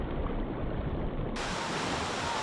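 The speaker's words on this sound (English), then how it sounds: "The falls in the river are a barrier, forcing the salmon to pause in their migration." A river waterfall in Alaska, a barrier on a salmon migration route, pours in a steady broadband roar that turns noticeably brighter and hissier partway through, with no voices.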